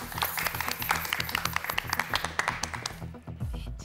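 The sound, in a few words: studio audience applause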